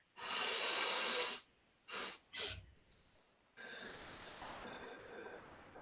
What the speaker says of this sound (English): long out breath, big sniff, then small sniff